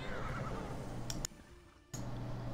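A horse in the video game Assassin's Creed Odyssey lets out a loud whinny, followed by a brief silent gap and then renewed ambient game sound with a low steady hum underneath.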